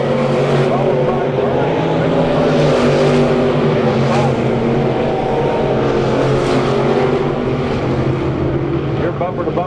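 Race cars on an oval speedway track roar steadily and loudly as they run through the turns during a heat race, engine drone continuous throughout with a track announcer's voice over it.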